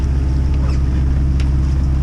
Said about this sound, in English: motoring out of the channel to Dublin at 4 o'clock in the morning,